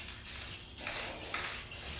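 A spray can coats a vintage Honda CB350/CL350 motorcycle frame in four short, close, even hissing bursts with brief gaps between them.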